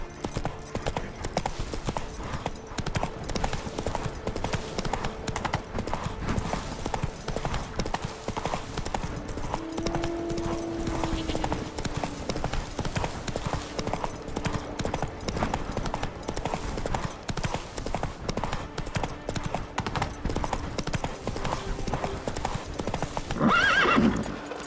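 Hooves of Roach, Geralt's horse in The Witcher 3, gallop continuously in a quick, steady clip-clop rhythm across Skellige, with occasional whinnies and faint voices in the background.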